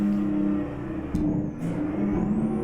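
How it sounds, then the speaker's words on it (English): Detroit 6V-92 engine in a Mack R truck in American Truck Simulator revs steadily with a loud, continuous low drone, dipping briefly then surging again, alone with no talk. "one of the characteristics of this engine is the fact that it holds onto its engine revs quite a bit"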